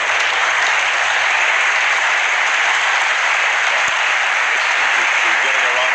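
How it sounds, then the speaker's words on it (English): Snooker crowd applauding a trick shot in a match between Ronnie O'Sullivan and Neil Robertson, a loud dense wash of clapping that fills the whole stretch, with a commentator's voice faintly beneath. "He's getting a round of applause"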